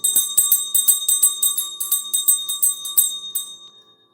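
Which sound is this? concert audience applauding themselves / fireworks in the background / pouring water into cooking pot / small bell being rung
small bell being rung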